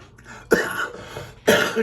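Two short, harsh coughs about a second apart, close and fairly loud, with a faint voice before them.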